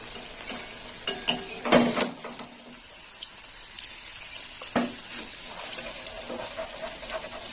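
Paneer sizzles steadily in hot oil in a pan, with clinks and scrapes of a utensil lifting the pieces out, while a soft hiss runs underneath.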